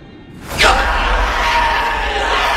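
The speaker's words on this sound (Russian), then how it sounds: "Демонический вопль." A sudden, loud demonic scream bursts out in the VR horror game The Dark Pictures: Switchback VR, opening with a shrill, falling shriek and then sustaining as a raw roaring howl.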